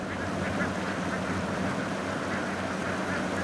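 A large flock of ducks running across a field quacks continuously, a dense, steady chorus that fills the scene at close range with no pauses.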